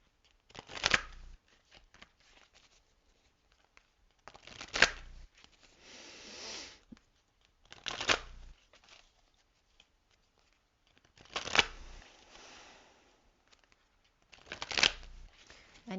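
A Journey of Love tarot card deck is shuffled in five separate bursts of riffling, crisp papery flutters, each a second or two long and close by, with quiet pauses between them.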